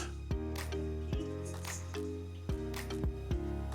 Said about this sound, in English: This section of the cave is really wet. You hear a lot of dripping.